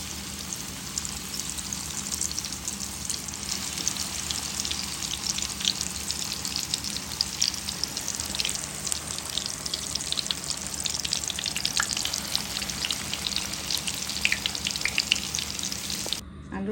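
Potato chops (aloo chop) deep-frying in hot oil, a steady crackling sizzle with dense popping bubbles that continues evenly throughout, close and fairly quiet, with no talking.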